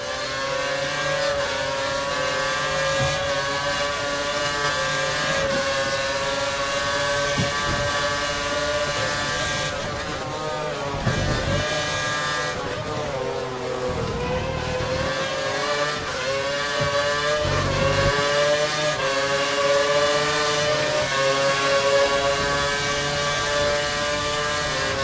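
Race car engines at full revs on the Suzuka circuit scream past in repeated high-pitched passes, with pitch sweeping up and down as cars accelerate and shift gears, loud and continuous.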